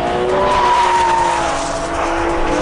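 A Ferrari 599 GTB Fiorano on a race track, loud, close engine note holding a steady tone as the tyres scrub and squeal under power through a corner.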